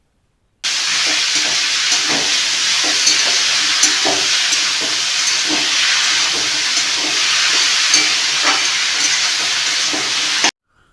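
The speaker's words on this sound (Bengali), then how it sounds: "একটু নেড়ে নিয়ে একটা থালা দিয়ে ঢেকে দিতে হবে কুমড়োটা সেদ্ধ হওয়ার জন্য।" Cut ash gourd with salt and turmeric powder sizzling in a pan, a steady close hiss with light stirring scrapes throughout, no talking.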